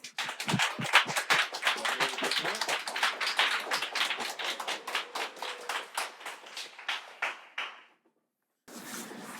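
Lively applause from an audience, dense clapping that gradually thins out and fades, followed by a brief pause and a speaking voice.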